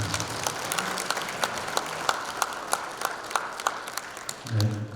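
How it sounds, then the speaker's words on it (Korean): Steady applause from an audience at a Korean arts gathering in a hall as an official guest is introduced, a dense even wash of many hands with a few sharper claps, moderately loud, with a brief voice near the end. "큰 박수 부탁드립니다."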